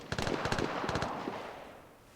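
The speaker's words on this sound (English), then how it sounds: "That's the sound of a pistol dying." Pistol fire in a video game: a quick run of sharp shots in irregular bursts over about a second, fairly faint and echoing, then trailing off into background noise.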